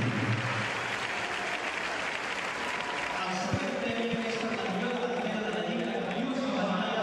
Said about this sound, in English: Big cheer for the captain, Alexia Putellas.